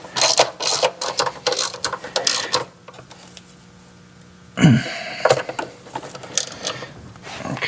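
A ratchet clicks in quick bursts while snugging the throttle body bolts on a 2011 Ford Fiesta, close and crisp, with a quiet pause in the middle before another round of ratcheting.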